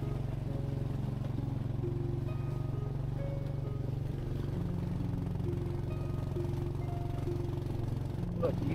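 A motorcycle rides along a forest mountain road in Vietnam with steep cliffs alongside, its engine a steady low drone throughout that stays close and fairly even, without clear speech.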